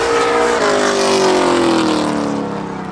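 Drag racing cars, an Audi against a Camaro, roar loud and close at Oxford Plains Speedway during spectator drags, with engines droning steadily and pitch shifting as they accelerate away.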